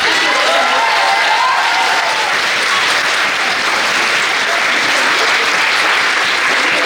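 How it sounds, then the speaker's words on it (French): Audience at an eloquence contest applauding the candidates, a dense, steady wash of clapping that stays loud and even throughout without a break. "donc on peut les applaudir tous."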